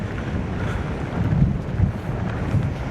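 Storm wind blows across the coast at M'Scala, Malta, a steady low rushing buffet against the microphone with gusts swelling and easing, no voices.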